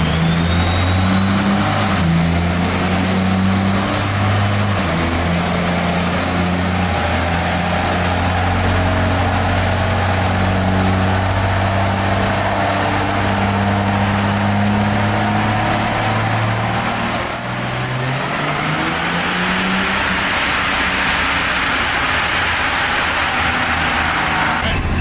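A turbocharged engine fitted with an ATS T4 exhaust manifold roars through a dyno run, its loud drone climbing steadily in pitch with a rising turbo whine near the end, heard alone and close.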